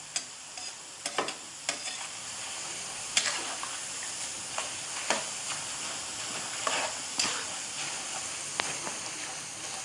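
Thin snack dough fries in hot oil and is stirred, giving a soft continuous sizzle broken by scraping, clinking stirs at irregular intervals, close and fairly quiet, with no talking.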